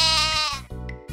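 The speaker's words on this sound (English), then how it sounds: "A sheep makes a baa sound." A sheep bleats in two or three close, loud, wavering baas in quick succession, alone without talk.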